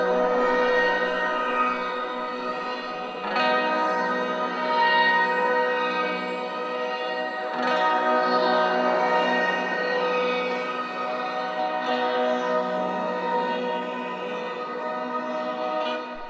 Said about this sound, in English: There's this space delay preset called Fading from View